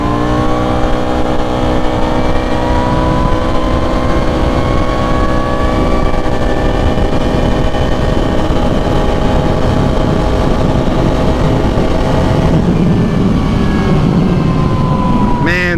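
A motorcycle fitted with a full HMF Racing exhaust and DynoJet tuning launches hard, its engine roaring loud and close as it rises steadily in pitch through the gears, with a shift audible near the end.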